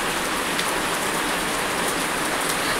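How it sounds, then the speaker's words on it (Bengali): Heavy rain pours steadily outside during a monsoon downpour, a dense, continuous hiss of drops beating on surfaces at close range with no voices. "কি মুষলধারে বৃষ্টি শুরু।"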